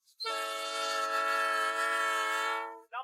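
A long freight train, about 1.6 km long and travelling near 84 km/h, sounds its horn in a documentary reenactment near Bryan, Arkansas: one loud sustained multi-tone blast of almost three seconds, then a brief second honk.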